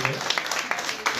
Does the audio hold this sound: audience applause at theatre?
yes